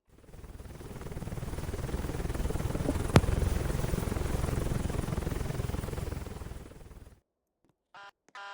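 Pave Hawk helicopter in a game, a steady loud rotor and engine roar swelling in and holding for several seconds with one sharp click partway, then cutting abruptly to near silence with a few faint blips.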